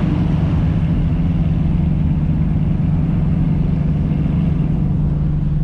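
Supercar engines idle ahead of a rolling convoy, producing a loud, steady low rumble that holds constant and close with no break.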